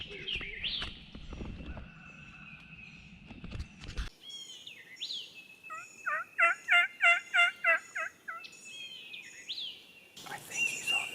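Wild turkey gobbling outdoors in North Carolina during spring hunting season, with a nearer gobble early on and a fainter run of roughly six rhythmic gobbling notes later, mixed with other birdsong and rustling.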